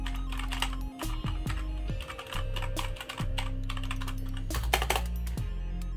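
Rapid clacky keystrokes come from a Royal Kludge G87 wireless mechanical keyboard, a dense close-up burst of typing over a low background hum.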